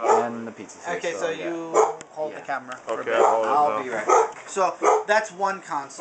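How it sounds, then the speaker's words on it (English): A dog barks intermittently in the background while people talk continuously over it at close range, the barking mostly buried beneath the conversation. "Pardon the dog barking."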